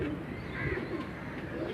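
Pigeons on a rooftop loft coo softly and steadily, a faint, low murmur of several birds blending together with no clear pauses.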